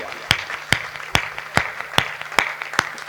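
An audience at a recital of a poem about Maharana Pratap and his horse Chetak claps together in a steady, even rhythm. There are about eight sharp, evenly spaced beats, close and loud.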